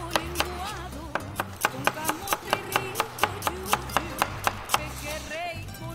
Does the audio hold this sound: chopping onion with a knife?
yes